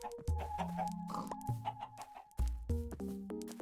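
Blocky video-game chickens cluck repeatedly in short, bouncy bursts, several birds close together with a steady electronic hum beneath them, no voices over the calls.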